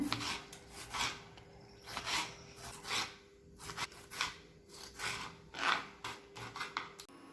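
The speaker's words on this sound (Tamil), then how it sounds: "இப்போ நம்ம தக்காளி பொடி பொடியாக கட் பண்ணிக்கலாங்க" Knife cutting tomatoes into small pieces on a board, heard as a steady series of soft, near rasping chops, roughly one or two per second, with no other sound.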